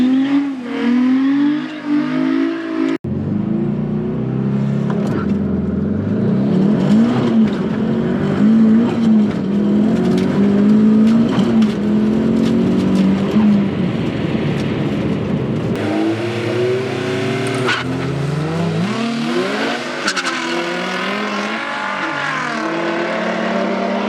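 A 500-horsepower Mazda Miata makes a drag racing pass on a grip setup, its engine screaming loud and continuous through rising gear pulls with brief shift breaks, close to the microphone for the full run.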